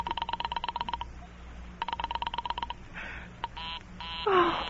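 An old telephone is dialed by an operator as a rapid series of touch-tone beeps in two bursts, followed by clicks and ringing tones on the line, with no voices.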